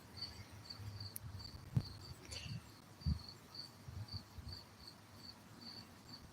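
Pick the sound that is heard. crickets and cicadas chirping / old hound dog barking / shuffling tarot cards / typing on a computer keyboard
crickets and cicadas chirping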